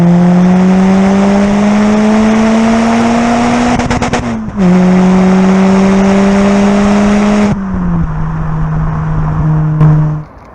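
A Citroen C4 VTS 180 with an aftermarket induction kit revs loudly and alone, its engine note climbing steadily in two long pulls with a brief drop between them, then settling back toward a lower idle.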